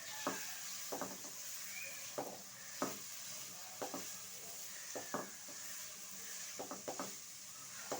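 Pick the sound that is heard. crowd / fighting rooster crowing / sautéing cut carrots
sautéing cut carrots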